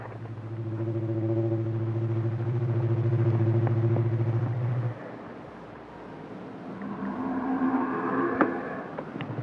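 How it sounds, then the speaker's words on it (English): An Indian elephant gives a deep, contented rumble from the base of its trunk: a loud, steady, low droning tone lasting about five seconds, followed by quieter mixed sounds. "Deep rumblings at the base of the trunk express contentment."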